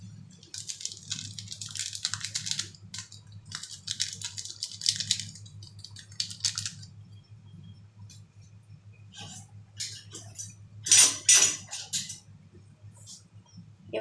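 Jalebi batter of flour, a spoon of ghee, a pinch of salt and Eno being stirred slowly with water in a bowl, giving soft wet squishing and scraping bursts in an uneven rhythm over a low steady hum.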